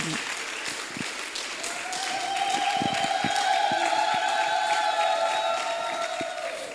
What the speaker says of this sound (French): Est-ce que nous pouvons encore une fois applaudir pour cette grande dame?